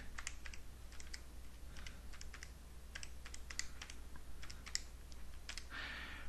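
Rapid clicking keystrokes on a computer keyboard as numbers are typed in, close and steady in short bursts, with a brief rustle near the end and no voices.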